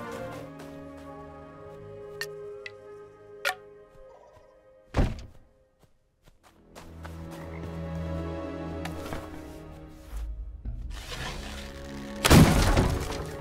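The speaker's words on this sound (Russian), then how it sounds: "Подобрав бочку взрывчаткой, я направился подрывать эти металлические пластины." An explosive barrel blowing up metal plates in a settlement-building video game, a sharp thunk and blast among ringing metallic impacts, with a loud crashing burst of breaking debris near the end, no talk.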